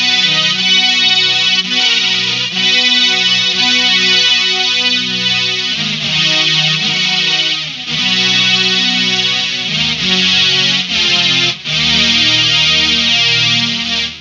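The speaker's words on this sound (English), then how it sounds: "So the next mode after bass is strings." Boss SY-1 guitar synthesizer pedal in strings mode gives thick, chorused string-like chords with a gritty edge, changing every second or two with short breaks between them, loud and close, with no talking.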